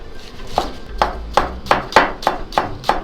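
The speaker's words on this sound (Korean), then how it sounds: "그리고 볶을 때 들어갈 파를 자를게요." Knife chopping green onion on a cutting board, a steady series of eight sharp, close chops at an even rhythm, with no talking.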